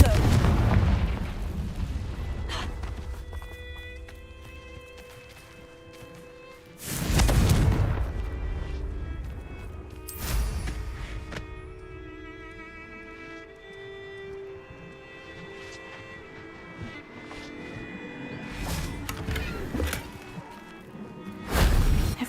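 Confringo blasting-curse explosions in the Hogwarts Legacy video game: several loud, deep booms spaced seconds apart, with rumbling decays and combat sounds between them.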